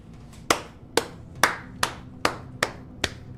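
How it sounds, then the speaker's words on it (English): Two hands give a slow golf clap, about eight sharp claps spaced evenly and close to the listener, with no talking. "Round of applause, a little golf clap for that one"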